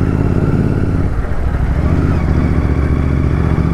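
A Royal Enfield Continental GT 650 motorcycle rides along a mountain road toward Chopta in Uttarakhand, its engine a loud, steady low rumble that stays close and continuous throughout.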